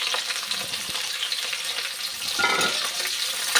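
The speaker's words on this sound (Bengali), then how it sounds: "পেঁয়াজটা অল্প ভেজে আসুক।" Sliced onion sizzles in hot oil with bay leaf and cinnamon for an egg biryani, a steady close crackling fry with a brief stir partway through.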